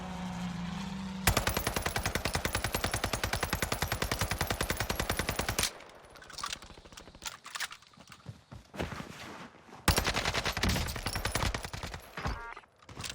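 Assault rifle in a shooter game on the Caldera map, fired in long sustained full-auto bursts with rapid even reports, separated by a quieter stretch of scattered shots.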